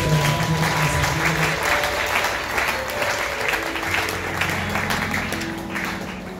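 A church congregation claps and cheers together, a steady, full-room wave of applause that fades slightly toward the end.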